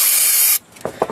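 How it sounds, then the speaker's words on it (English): Brake cleaner hisses from an aerosol can onto a rag during a 2011 Nissan Altima CVT fluid job, one loud half-second spray that cuts off sharply, followed by a few soft rubbing and handling sounds. "spray a little brake clean on it"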